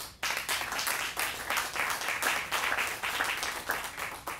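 A crowd claps warmly for Mayor Ed Lee at an outdoor groundbreaking ceremony for the Pacific Pointe apartments at the Shipyard, a dense, even round of applause at steady loudness with no voices.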